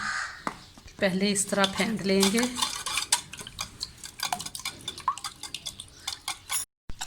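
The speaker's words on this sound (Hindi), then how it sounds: "अब हम इन अंडों को पहले इस तरह फेंट लेंगे।" Eggs beaten by hand in a bowl, a rapid clattering whisk or fork striking the sides in quick bursts, close and busy, with short pauses between strokes.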